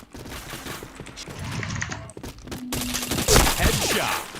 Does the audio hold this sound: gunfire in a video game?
yes